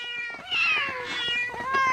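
Kittens meowing: a couple of high, drawn-out mews close by, one after another with no other sound around them.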